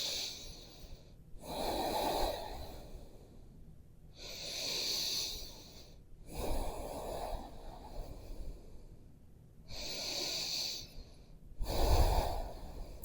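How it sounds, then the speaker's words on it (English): Slow, deep breathing during a yoga flow, with four or five long inhale-exhale cycles separated by short pauses. The breaths are close and breathy, with a soft nasal hiss and no talking. "And breathe here."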